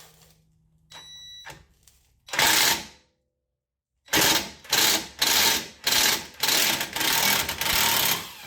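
An impact driver loosens tight 14 mm brake caliper bracket screws on a 2015 Mercedes CLA 250 4Matic, firing in short loud rattling bursts, one early then a run of six closely spaced hammering bursts separated by brief pauses.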